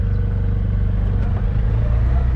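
An auto rickshaw engine runs steadily in first gear while driving, a loud continuous low rumble with no break.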